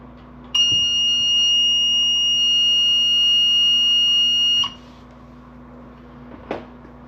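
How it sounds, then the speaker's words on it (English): A built-in alarm on a water leak shutoff device sounds a steady, loud high-pitched electronic tone for about four seconds, then stops abruptly, followed by a faint click. "I'm glad it's got a built-in alarm."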